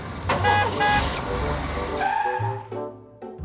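A camper van engine's low rumble with a honking horn-like tone over it, loud and close, with brief tonal toots near the end.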